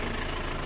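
A car engine that has been rebuilt twice and blows thick white smoke idles roughly at normal temperature, a steady, close, uneven rumble with a faint knocking pulse throughout.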